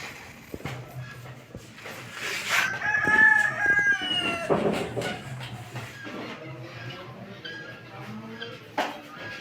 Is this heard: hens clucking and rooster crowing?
yes